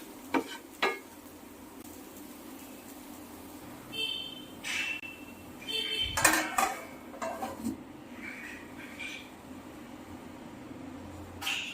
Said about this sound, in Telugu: ఇప్పుడు ఈ పౌడర్ని అరటికాయ ముక్కల్లో వేసి మసాలా అంతా బాగా పట్టేలా కలుపుకొని